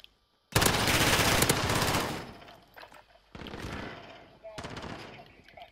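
Close, loud bursts of MP7 submachine gun fire in a Call of Duty: Modern Warfare gunfight match: a long rapid volley, then two shorter bursts with brief gaps between them.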